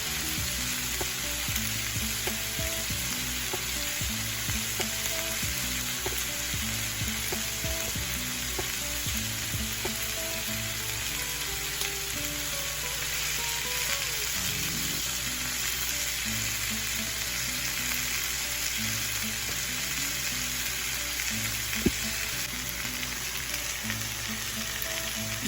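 Burger patties sizzle steadily on a grill set to low heat, a continuous close frying hiss with small pops and crackles throughout and no talking.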